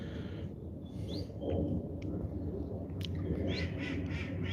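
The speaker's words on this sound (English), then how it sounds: "this duck here on its own in the middle, that seems to be the very noisy one" A duck quacks a few times at a moderate distance over a steady low rumble of background noise.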